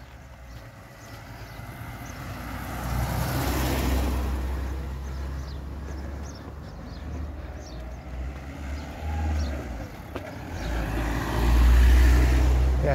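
Cars passing on a road, a low rumbling swell that builds and fades as vehicles go by, rising again near the end, with faint talk underneath.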